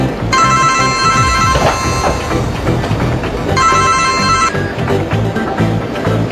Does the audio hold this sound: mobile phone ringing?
yes